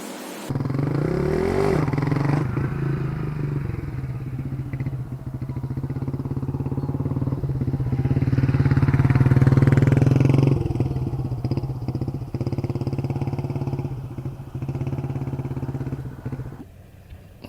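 A Yamaha Vixion motorcycle fitted with a BRT clutch spring runs on a test ride, its engine droning loudly and close, rising and falling through revs, with rattles and wind noise throughout.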